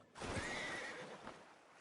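A horse in a video game lets out a single loud, close whinny lasting about a second, rising and wavering before it fades, with no talking over it.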